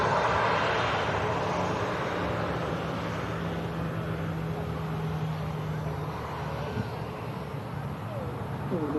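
Airbus A380 airliner lining up on the runway before a long-haul departure, a steady broadband jet engine roar with a sustained tonal hum, heard from a distance outdoors.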